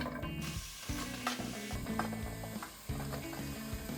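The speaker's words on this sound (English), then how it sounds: "Then, stir them over medium heat." Onion and carrot in oil in a big pot over medium heat, stirred with repeated scraping, clattering strokes over a faint sizzle, quiet and close with no talk.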